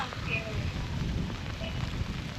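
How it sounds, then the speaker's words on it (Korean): Rain falls in a deep mountain forest in Japan as a steady, even hiss that carries on without a break. Faint, brief tones sit over the wash of the rain. "뭐야 비 오나 보다"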